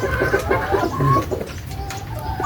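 A mother hen clucks low and repeatedly near her chicks outdoors after rain, while the chicks cheep in high, thin peeps around her. No voices.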